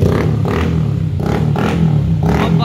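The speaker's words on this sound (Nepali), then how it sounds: "बुलेटको साइलेन्सर हालिदिएको पल्सर बाइकमा यस्तो बब्बाल साउन्ड दिन्छ" Bajaj Pulsar motorbike fitted with a Royal Enfield Bullet silencer revs at a Kathmandu fair, a loud throbbing exhaust with repeated rhythmic blips over a steady engine drone, close by.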